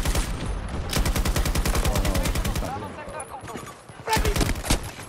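Bursts of rapid automatic gunfire in the shooter game Battlefield 2042, loud and close, with a long sustained burst and then a shorter one after a brief lull, plus other shots and battle noise in between.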